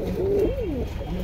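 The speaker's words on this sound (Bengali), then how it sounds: "ওইখানে কিছু কবুতর আছে।" Pigeons cooing close by, a single smooth rising-and-falling coo about a second long with no voices over it.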